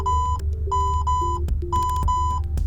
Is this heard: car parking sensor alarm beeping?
yes